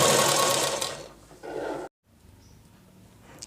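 Sewing machine stitching a lining piece around a boat neck blouse piece, a loud rapid whirring burst that slows, briefly resumes, then stops, followed by quiet handling.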